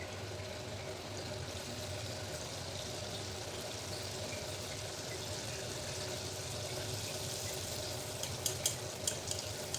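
Steady broadband sizzle of anarsa, a rice-flour sweet, deep frying in hot oil, continuous throughout, with a few sharp clinks near the end.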